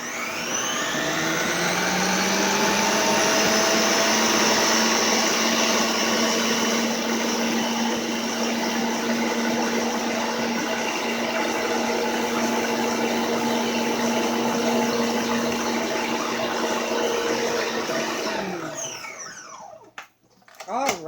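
A stand mixer runs on its highest speed, mixing cookie dough with craisins, in a loud, steady mechanical whine that holds for most of the stretch before spinning down and stopping near the end.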